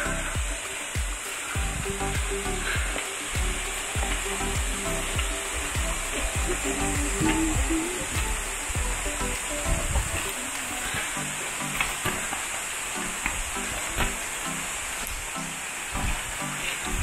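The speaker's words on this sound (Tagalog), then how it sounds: "Yung tinatawag na Kanumantad Falls." Can-umantad Falls, the main waterfall, roars as a steady broadband rush of falling water, loud and close, continuous without pause.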